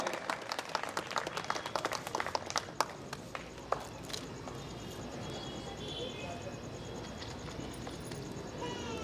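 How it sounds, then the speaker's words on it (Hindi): An audience at a martyrs' day commemoration evening claps steadily, a dense, fairly faint patter of applause that continues throughout, with a few sharper claps early on. "आप सबसे आग्रह की जोरदार तालियां बजाकर"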